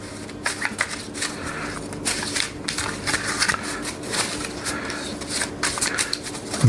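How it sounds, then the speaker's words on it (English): A deck of drinking game cards being shuffled by hand, a steady papery riffling and flicking that runs close and moderately quiet for several seconds, with no voices. "See, I didn't shuffle this very good."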